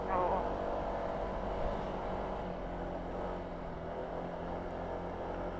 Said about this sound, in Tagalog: Dinig na dinig mo yung tunog ng makina mo na umaahon eh